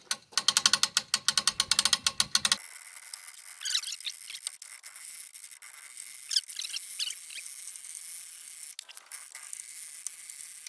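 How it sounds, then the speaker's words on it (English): Hand wrench ratcheting a screw on a boat trailer for a new fishing boat: a rapid, loud run of ratchet clicks for about two seconds, then quieter scattered clicks and squeaks. "What I have now is this hand wrench."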